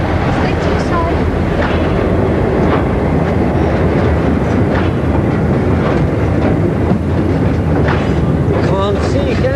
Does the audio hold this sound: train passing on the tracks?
yes